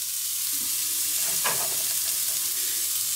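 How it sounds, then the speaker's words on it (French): Chopped onions for an omelette hit a hot pan and fry with a steady, even sizzle and hiss, near and continuous, with a brief stirring scrape in the middle and no voices. "On va jeter les oignons."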